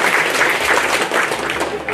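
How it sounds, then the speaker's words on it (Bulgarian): Guests at a Lions Club charity ball in Panagyurishte give loud, dense applause, a continuous close wash of many hands clapping for the full two seconds. "Аплодисменти"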